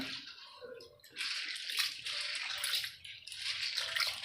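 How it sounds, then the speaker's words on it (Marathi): Lentils being washed by hand in water give bursts of swishing and sloshing, close and fairly loud, in two or three rounds separated by brief pauses. "आता आपण डाळ स्वच्छ धुवून घेऊया"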